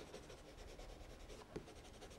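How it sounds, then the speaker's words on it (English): A coloured pencil, held on its side, shades softly across paper in steady, faint rubbing strokes with no talking. "using the side of the pencil, we'll just blend a little bit of shadow onto the bodies of the ducks"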